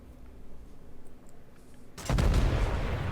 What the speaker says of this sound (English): obviously being shelled by a battleship here